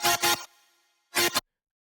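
A layered chord sample plays in music production: two short loud stabs, a faint fading tail, then a third stab after a brief gap. No one talks over it.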